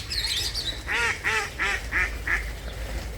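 A series of five nasal duck quacks in a steady rhythm, fairly close, over low background rumble.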